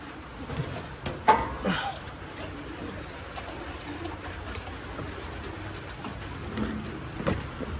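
Pigeons coo softly in a loft at dusk, low murmuring calls repeating faintly under steady background noise, with a brief louder rustle near the start.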